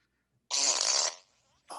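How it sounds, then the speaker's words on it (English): A single loud, buzzy fart lasting about half a second, close up, followed by a short quieter trailing sound. "Did you just fart?"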